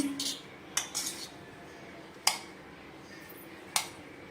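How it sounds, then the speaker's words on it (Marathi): A spoon clinks against a bowl while sabudana and rice mixture is mixed with salt, four or five sharp scraping taps spaced irregularly over a quiet background. "हे सर्व मिक्स करून घेऊया।"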